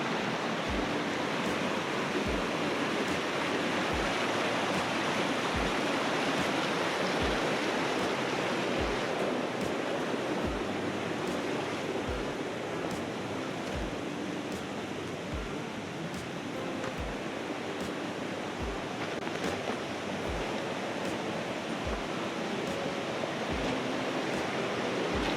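A rushing mountain creek swollen with heavy runoff, a loud, steady, close roar of churning water that continues without a break.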